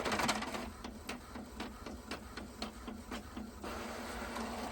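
An office printer runs through a print job, its mechanism ticking in a steady, regular rhythm over a constant mechanical whir, close and moderately loud with no one talking.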